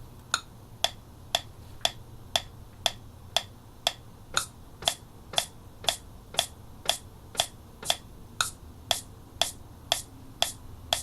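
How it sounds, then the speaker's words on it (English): Crisp, bright hi-hat ticks from a step sequencer repeat at a steady even pulse alongside a metronome, with some hits slightly accented, over a low background hum; no voices. "I'm going to step in a hi-hat right now, and there's a metronome playing, so you'll hear that."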